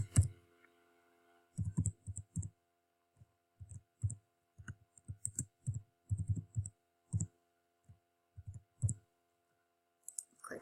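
Sparse computer mouse clicks and short bursts of keyboard typing, close and fairly quiet, coming in irregular clusters with silent gaps between them in an otherwise still room.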